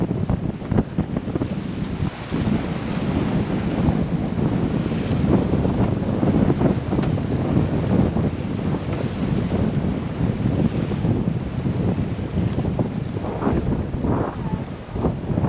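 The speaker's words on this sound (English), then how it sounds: "Oh, here comes some wind." Strong gusting wind roars and buffets the microphone continuously aboard a sailboat off Newfoundland, mixed with the wash of waves against the hull, loud and unbroken throughout.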